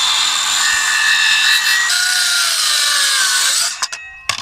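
A saw cuts through wooden boards for a swim raft, a loud, steady close-up grinding drone holding for several seconds with a falling whine near the end, then stopping in a few clattering knocks.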